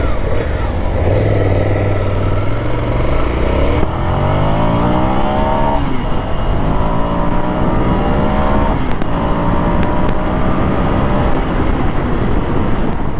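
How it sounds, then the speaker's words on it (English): An 800cc Ducati Scrambler Desert Sled motorcycle in journey mode accelerates hard, its engine note climbing through several gear shifts, loud and close, with steady wind noise and no voices. "That's how the 800cc Ducati Desert Sled pulls."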